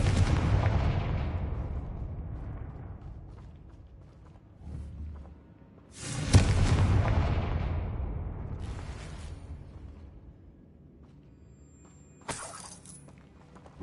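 Confringo blasting-spell explosions in the Hogwarts Legacy game, several heavy booms bursting out at intervals, each trailing into crackling, shattering debris that fades before the next blast.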